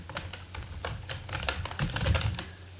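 Rapid clicking of keys on a computer keyboard while typing, a close, fairly quiet run of uneven taps with short pauses and no speech.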